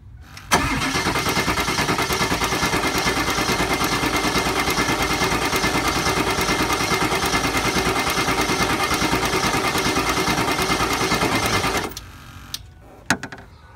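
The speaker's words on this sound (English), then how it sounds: "And go ahead and crank it and see what it can do." A 2002 Ford Excursion with a 7.3 diesel cranks continuously during a high pressure oil pump test, a loud, fast, even starter whir for about eleven seconds, then it stops and a few clunks follow.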